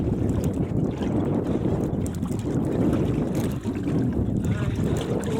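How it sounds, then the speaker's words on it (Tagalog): Strong wind buffeting a microphone on a small fishing boat at sea, a loud continuous low roar and rumble filling the whole stretch with no talk. "Maraming lakas pa rin yung hangin."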